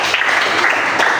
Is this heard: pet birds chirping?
no